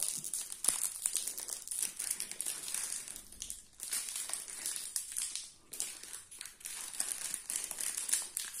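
Sealed plastic wrapper on a Wankul trading card display box being pulled open, steady close crinkling and crushing of film with brief pauses, no talk.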